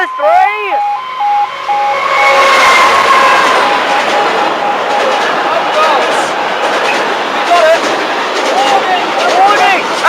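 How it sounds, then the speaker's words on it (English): A freight train passing a station at Hykeham, with a loud, sustained rumble and clatter of wagons, a horn at the start and an automated voice announcement. "A freight train is passing!"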